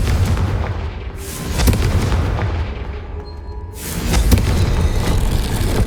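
Confringo blast spell cast in Hogwarts Legacy, a game battle: loud repeated booming explosive bursts over rumbling, with a big swell of blasts near the end.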